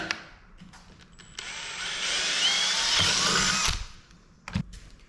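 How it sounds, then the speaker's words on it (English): A power drill whines loudly for a couple of seconds as it bores into a PVC test piece, then stops, followed by a few clunks of handling. "I'm gonna drill it in this test piece just to make sure it's the right size"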